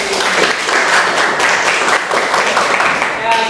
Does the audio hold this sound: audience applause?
yes